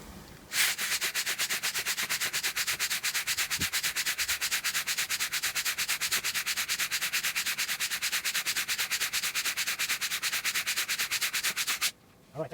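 Rapid, evenly spaced friction strokes rubbing across 1000 denier nylon fabric, a dense rasping scratch repeated dozens of times per second at close range, starting and stopping abruptly with no talk.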